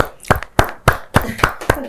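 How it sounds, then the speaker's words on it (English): An audience breaks into scattered, rhythmic clapping, with sharp claps spaced roughly every quarter second, close and fairly loud. "I think we need to clap to that"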